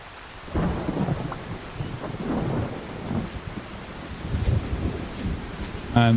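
Video-game thunderstorm with steady rain falling and low rumbling thunder rolling through, moderately loud and continuous, heard from under a roof on an island, with no talking.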